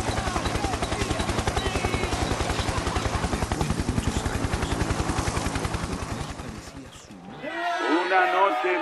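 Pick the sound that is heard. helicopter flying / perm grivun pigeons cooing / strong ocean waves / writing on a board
helicopter flying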